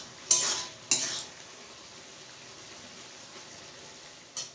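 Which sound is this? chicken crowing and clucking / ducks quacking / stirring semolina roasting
stirring semolina roasting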